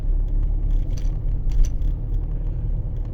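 A Mahindra Thar ROXX SUV on the move gives a steady low road rumble from inside the cabin, with small clinks and rattles scattered over it.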